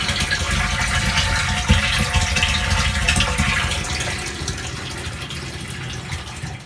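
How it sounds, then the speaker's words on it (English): Water runs steadily through an RV fresh-water tank fill hose, a continuous close-up gushing rush that softens slightly toward the end. "I've run about 15 gallons of water through that hose"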